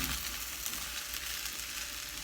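Fried rice being stirred in a hot frying pan, with a continuous loud sizzle and the scrape of a spatula mixing the rice, close up with no talking.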